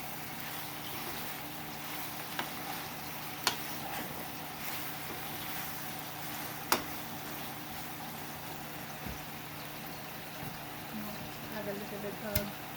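Tulingan fish steaks seasoned with lemon and pepper are stirred in a pan, a steady sizzling hiss broken by a few sharp utensil clicks against the cookware.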